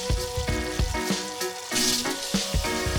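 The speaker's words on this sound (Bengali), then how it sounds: "মাছগুলো দিয়ে এখন ভেজে নিচ্ছি" Rohu fish pieces fry in oil in a pot, a close sizzling crackle broken by repeated rhythmic clanks and scrapes of a utensil against the metal.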